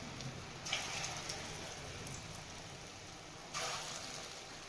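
Dhoka lentil-cake fritters frying in hot oil in a heated kadai, a steady close crackling sizzle with a couple of brief louder bursts as batter pieces drop in.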